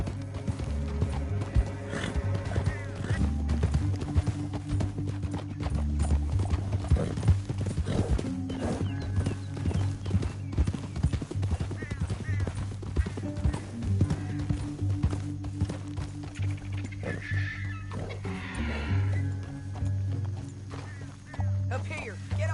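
Horse hooves clip-clopping at a fast pace in Red Dead Redemption 2, a continuous rhythmic gallop with an occasional whinny, mixed under game music and characters talking.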